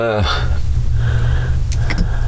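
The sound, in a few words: vintage cars driving past on a road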